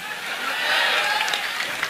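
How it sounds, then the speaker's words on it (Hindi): Audience at a political rally applauding, a dense roll of clapping that swells in the middle and stays fairly even, heard alone without talk. "तालियां बजाओ"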